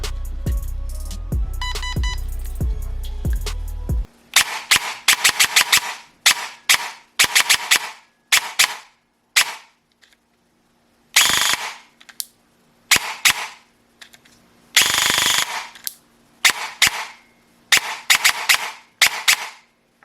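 A Valken ASL airsoft gun, a budget sleeper build, fires a fast burst and then many sharp single and short-burst shots, loud and close with brief pauses between, no talk.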